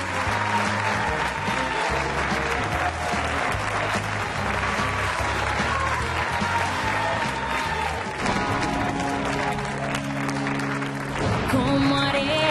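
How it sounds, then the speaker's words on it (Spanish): A crowd claps steadily and enthusiastically for the winner of a singing contest, a dense wash of applause that keeps going throughout with faint music rising near the end. "Señores, con este aplauso seguimos"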